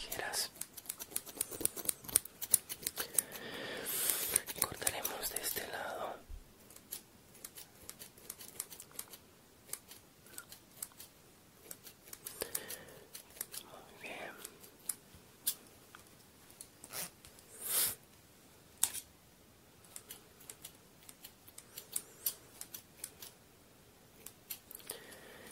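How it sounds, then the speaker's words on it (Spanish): Barber scissors snip through hair in a classic barbershop ASMR session, giving rapid, crisp, close-up clicking cuts in irregular bursts, with quiet soft-spoken talk in between. "Voy a pasar un poco las tijeras."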